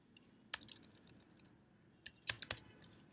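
Keys clacking on a computer keyboard in short, uneven bursts of quiet, close taps, with a brief pause before a final quick flurry.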